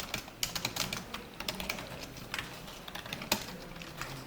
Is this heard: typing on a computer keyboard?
yes